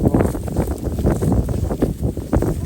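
Cool wind sweeps across a rice field at harvest time, buffeting the microphone with a steady, loud, low rumble and uneven gusts throughout.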